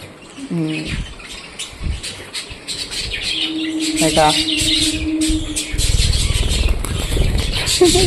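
Small birds eating seed from a person's open hand outdoors give short, high chirps and squawks in brief bursts. A person talks over them throughout.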